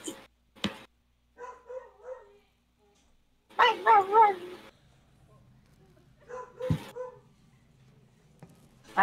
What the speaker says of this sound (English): Just more dog noises.